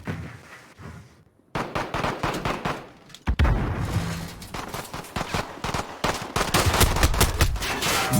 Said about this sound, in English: Nice shots coming out.